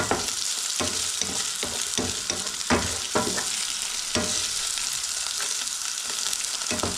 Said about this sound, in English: Certainly smell that seaweed cooking.